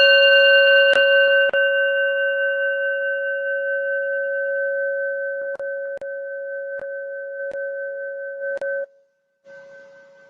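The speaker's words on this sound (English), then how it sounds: "see how long you can hear this bowl chime for" A singing bowl is struck and rings with steady, sustained bell-like tones, lightly tapped again several times as the chime hangs in the air for about nine seconds before cutting off; no one speaks.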